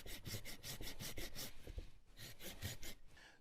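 Gomboy folding saw cutting wood, a steady rhythmic run of close rasping strokes, roughly three per second, with a short pause midway before the strokes resume.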